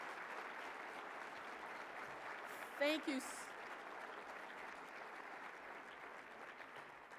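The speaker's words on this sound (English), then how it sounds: "let's give them a big round of applause" A conference audience at a breakfast session applauds steadily for the full stretch, a broad even wash of clapping, while someone briefly says a few words near the middle.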